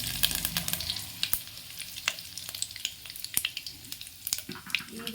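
Curry leaves crackle and sizzle in hot oil, a close, loud burst of sharp pops and spits over a frying hiss that settles into scattered crackles.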